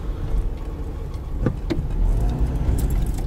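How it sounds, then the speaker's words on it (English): A 1997 Subaru Legacy setting off on a test drive after a front axle replacement, heard from inside as a low, steady road and engine rumble with a few brief clicks and rattles. "let's take it out for a drive and see if it made any difference at all"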